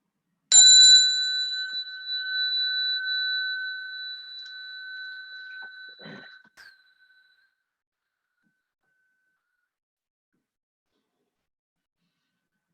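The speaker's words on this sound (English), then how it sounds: "So I'll ring a bell" A single strike of a meditation bell before a chant rings out clearly in a quiet room, its pure tone sustaining and slowly fading over about six seconds, followed by a faint knock and then silence.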